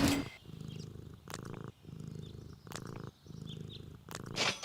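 A cat in the Deponia video game, stuck in a tree, gives a low rumbling purr in four or five rhythmic pulses separated by short breathy pauses. The sound is close and fairly quiet, with no talk over it.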